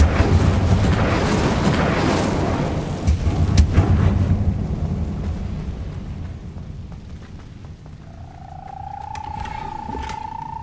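A fire spell cast in Hogwarts Legacy erupts as a loud, rumbling burst of flame lasting about four seconds, then fades into a quieter ambience with a thin whooshing tone near the end.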